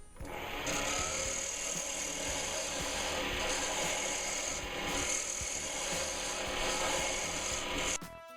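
Continuous rasping and whirring of a maple slimline pen blank being turned on a wood lathe, close and steady, with a tool scraping against the spinning piece until it stops.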